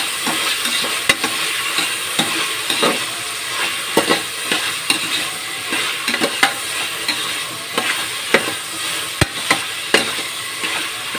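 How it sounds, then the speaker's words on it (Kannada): Tomatoes fry in a pan in a home kitchen, a steady sizzle broken by regular scraping clicks of a spoon stirring, close and fairly loud with no talking. "ಅಂದರೆ ಟೊಮೆಟೊ ಸ್ವಲ್ಪ ಫ್ರೈ ಆಗಲಿ"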